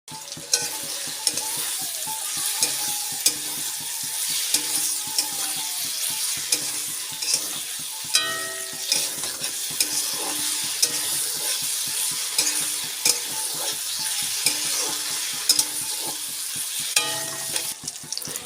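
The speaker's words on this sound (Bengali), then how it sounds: "এবার ভাজা পটলগুলো দিয়ে কিছুটা সময় নাড়িয়ে" Fried pointed gourd pieces are stirred in hot oil in a pan for a vegetarian yogurt curry, a constant loud sizzle broken by scraping strokes and occasional light clinks of the spatula against the metal.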